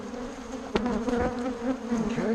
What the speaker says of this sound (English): Hear the buzzing.